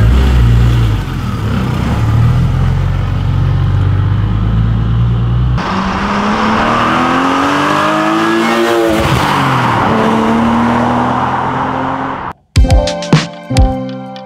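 A modified BMW car drives off past the camera, its engine droning loudly up close, then rising and sweeping by with a pitch shift before fading. An abrupt cut near the end brings a few sharp, tonal musical hits.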